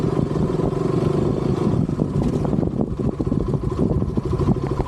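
A motorcycle engine runs loud and close as a ride gets under way, a continuous rumbling drone with rattly clatter and slight revving throughout.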